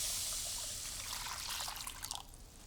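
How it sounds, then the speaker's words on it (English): Really hot tap water pours steadily into a pan for a custard water bath, a soft, continuous trickling and splashing that stays fairly faint, with no one talking. "I just use really hot tap water."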